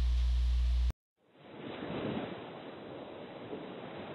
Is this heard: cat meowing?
no